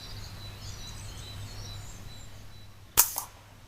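A single sharp, close shot from an FX Dreamline Sabre Tactical .22 air rifle in woodland, a crisp crack near the end after quiet ambience with faint birdsong and a low hum.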